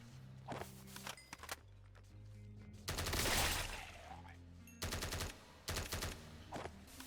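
A gun in a Minecraft hardcore game fires repeatedly, producing clustered bursts of loud, noisy shots with short pauses between them and low background hum throughout.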